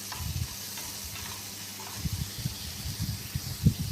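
Chopped onions fry in hot oil in a tempering for brinjal tomato curry, a steady close sizzle with soft scraping stirs and a louder scrape near the end.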